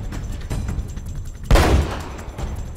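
Gunfire in the video game Uncharted: Drake's Fortune, a run of sharp shots with one loud burst in the middle, fairly close and with no talk over it.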